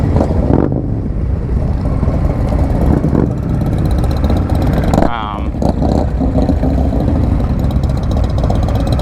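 A 2022 Indian Scout Rogue motorcycle engine runs steadily at low speed while riding slowly through a bike rally, a continuous close rumble with a rider talking over it.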